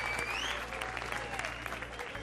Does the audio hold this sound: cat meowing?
no